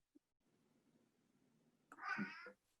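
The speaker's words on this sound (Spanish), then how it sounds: "Mi gato está muy..." A single cat meows once, fairly close and clear, after a stretch of low background hum, with no speech.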